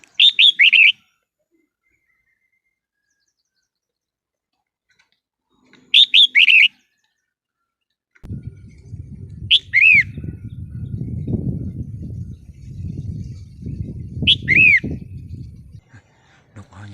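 Short bright calls of a red-whiskered bulbul ring out several times in the morning, spaced apart, and a low rumbling murmur of voices or wind runs beneath the later ones.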